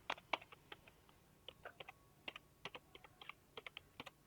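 Rapid, irregular clicks of typing on a computer keyboard while entering a company name, close and clear, with short pauses between bursts of keystrokes and no talking.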